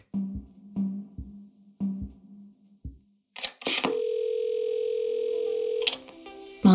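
Telephone dialing in the video game Assemble with Care: a rhythmic series of clunky rotary clicks and buzzes, then a short pause and a long, steady tone from the handset.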